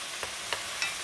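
Chicken pieces for Puerto Rican arroz con pollo frying in a pot, stirred with three short separate scrapes over a soft, steady background sizzle, fairly quiet.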